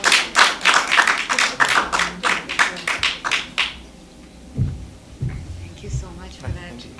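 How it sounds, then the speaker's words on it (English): An audience at a talk event in Coimbatore gives a round of applause, a quick run of distinct, close claps that stops after a few seconds, followed by someone speaking. "let's have a huge round of applause"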